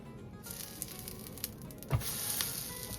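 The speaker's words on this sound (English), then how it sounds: "Dip that apple in your batter and place on your griddle." Apple slices dipped in pancake batter hiss and sizzle on a hot griddle, a steady close frying sound that swells slightly as more pieces land, with no talking.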